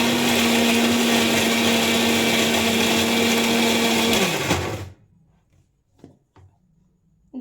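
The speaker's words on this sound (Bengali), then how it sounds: "এবার মিক্সির জারটা ঘুরিয়ে নেব।" A mixer grinder whirs loudly and steadily as it blends a paste with a little water, its motor tone holding for about four seconds before winding down and stopping, followed by a few light clatters.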